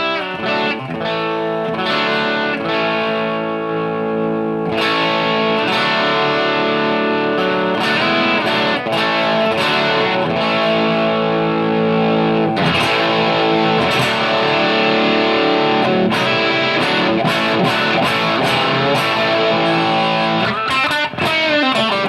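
PRS CE22 guitar on its bridge pickup running a Marshall 50-watt amp tone on a Line 6 Helix, playing loud, driven chords and riffs with bright overdriven sustain and steady strummed attacks, close and without talking.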